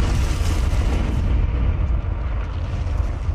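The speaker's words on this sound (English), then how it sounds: "Third round loaded, ready to fire." An anime weapon round fires with an explosion, a heavy, sustained roaring blast with deep rumble that fills the whole moment, loud and close, with no talk over it.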